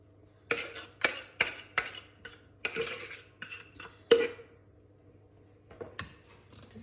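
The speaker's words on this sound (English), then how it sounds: "Just give it a little bit of a mix." An egg bake mixture of large eggs being mixed in a dish, a series of clinking taps and scrapes of utensil against the dish, close and moderately loud, in irregular bursts with brief pauses.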